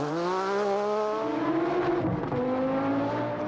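A rally car engine roars close by, pitch climbing and dropping as it passes, loud and continuous with no voices.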